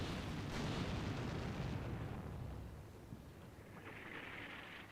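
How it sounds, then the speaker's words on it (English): Artillery barrage in Combat Mission: Shock Force 2: a heavy rumbling wash of overlapping explosions, strongest at first, then easing into a quieter, continuing distant thunder. "Jesus, how much artillery?"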